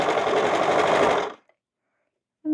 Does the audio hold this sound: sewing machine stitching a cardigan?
yes